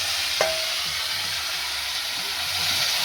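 Marinated chicken sizzles in a hot kadai on a traditional clay stove in a village, giving a steady frying hiss with a slight stir sound near the start.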